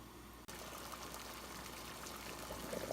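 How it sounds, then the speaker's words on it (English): A pot of water, brought up for cauliflower mac and cheese, boils at a steady roll: a continuous, fairly quiet bubbling hiss with no speech. "So my water is boiling, as you can see."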